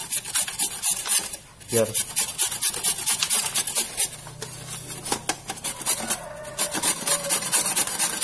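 A carrot is grated by hand on a metal grater, giving a steady run of close, rough rasping strokes with a brief pause partway through and a short word spoken once.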